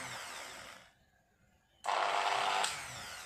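A rotary drill with a round diamond bit, used for drilling an eMMC chip, whines at high pitch, stops for about a second, then restarts even louder, close by and with no talking.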